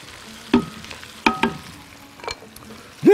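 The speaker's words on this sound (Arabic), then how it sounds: "ودي بنحمرها مع البصله والتومه وكده" Onion and garlic fry in a pan alongside dried coriander and cumin, with a low sizzle broken by a few sharp utensil knocks and scrapes, no talking.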